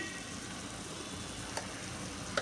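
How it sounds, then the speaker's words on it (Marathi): Raw banana vegetable dish sizzling steadily in a pan as sugar is stirred in, with a soft continuous frying hiss and two faint clinks of the spoon against the pan. "साखर टाकल्यावर मी हे ढवळते"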